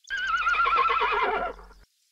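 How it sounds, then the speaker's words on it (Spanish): An old horse gives a loud, close whinny that rises, wavers and trails off, ending in silence after nearly two seconds. "junto a un caballo viejo"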